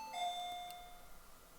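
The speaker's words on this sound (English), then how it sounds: "Loud ring of the interphone echoes noisily in the room" Interphone doorbell in the video game NinNinDays2, a single electronic two-tone ding-dong that rings clearly and quickly decays into a quiet room.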